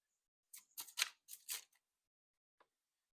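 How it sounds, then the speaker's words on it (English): A few quick riffling bursts of tarot cards being shuffled, close and crisp, followed by a single soft tap, with no talking. "Let's give these cards a shuffle."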